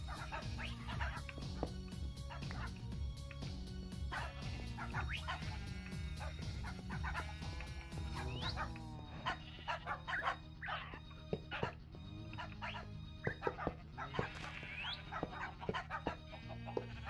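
Dogs in a video game bark and whimper in short, repeated bursts over a busy, layered game soundtrack, with the yelps scattered and moderately close.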